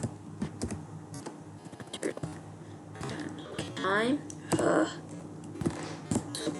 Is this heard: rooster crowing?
no